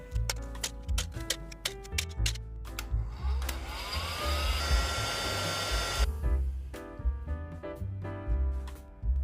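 A heat gun heating a piece of plastic to bend it blows with a steady airy roar that starts midway and runs for a few seconds, then stops, under scattered close ticks and clicks.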